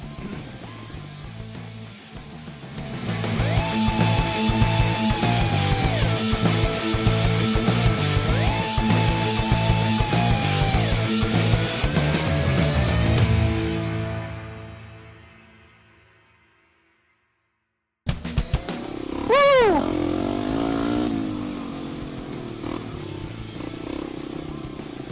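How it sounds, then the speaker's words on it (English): An old, worn enduro dirt bike engine runs loudly and steadily for about 13 seconds, then fades out to silence, and after a short gap a rising, revving engine sound returns. "I'm going to show you how crappy this bike is. How crappy it is and still runs."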